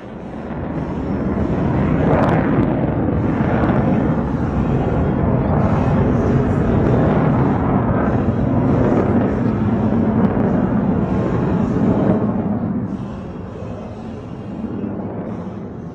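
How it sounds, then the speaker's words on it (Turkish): An F-16 fighter jet flies over a SOLOTÜRK display at the Çanakkale 18 March commemoration, giving a loud, sustained roaring rumble that swells and then eases as it passes. "F-16 jeti iniş takımları açık halde birçok hareketi limitler."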